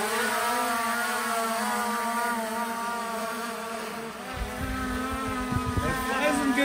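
A Skydio 2 drone lifts off and hovers outdoors in wind, its steady high-pitched propeller whine buzzing continuously at moderate distance, with rustling and handling noise near the end.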